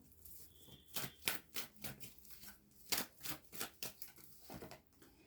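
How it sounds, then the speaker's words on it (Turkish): Tarot cards being drawn and shuffled from a deck: a run of close, crisp paper flicks and snaps, quiet and uneven, with no talk. "Son bir kart çekeceğim."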